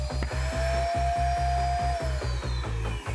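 A robot suction gripper's vacuum pump runs steadily and loudly, a close continuous motor whine with a rhythmic pulsing chatter repeating through the whole stretch.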